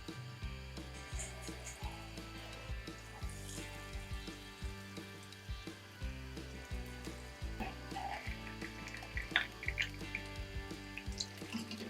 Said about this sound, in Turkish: Kızartmaya başlıyoruz.